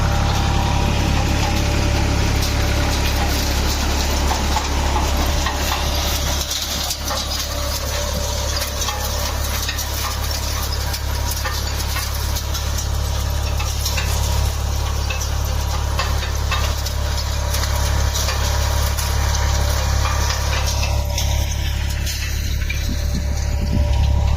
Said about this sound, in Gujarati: મારી પાછળ અત્યારે કામ ચાલુ છે ટ્રેક્ટર પાછળ